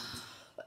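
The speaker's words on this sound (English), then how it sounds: "Sorry, that was really rude to cough like that." A single short cough from a woman, faint and close, a brief throaty burst near the end after quiet room tone.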